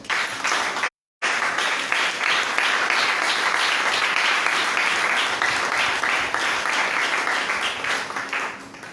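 A church congregation breaks into loud, sustained applause, dense overlapping clapping filling the room with a brief dropout near the start, then steady to the end.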